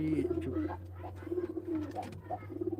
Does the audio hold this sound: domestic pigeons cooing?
yes